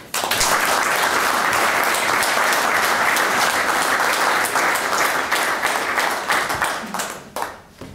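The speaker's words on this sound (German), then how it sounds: "Bitte einen großen Applaus" A conference audience at a free-software keynote gives a big, steady round of applause, dense clapping that holds at full strength before tapering off at the end.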